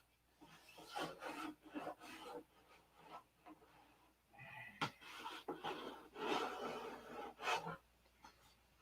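Close, quiet rhythmic rasping strokes of sandpaper working Bondo filler on a P-47 scale model airplane, coming in uneven bursts with brief pauses between passes.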